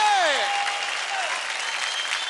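Studio audience applauding for Akshay Kumar on a televised Indian dance competition, a dense, steady wash of clapping that fills the clip, with a brief voice and tonal swoop at the start.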